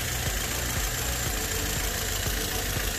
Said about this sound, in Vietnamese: Đó, máy nổ rất êm các bác nhé.